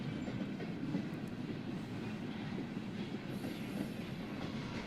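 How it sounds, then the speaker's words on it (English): A train speeds along its tracks toward Barcelona in a visual novel game, giving a steady, continuous rumble of wheels and carriages with no voices, loud and close throughout. "The train sped towards Barcelona."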